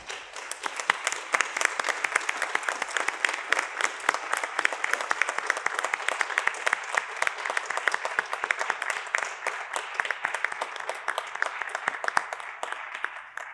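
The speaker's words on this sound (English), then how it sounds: "So can we give them a wonderful applause?" Sustained applause for emergency responders at a board of commissioners meeting, dense rapid clapping from a roomful of people that holds steady and moderately distant throughout.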